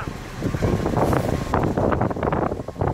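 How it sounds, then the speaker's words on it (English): Steady wind rushing and buffeting a microphone outdoors, a loud continuous roar with gusty swells throughout. "Hot and windy, which is what we needed to dry the driveway out."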